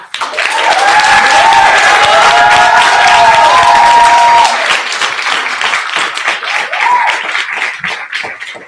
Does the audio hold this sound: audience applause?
yes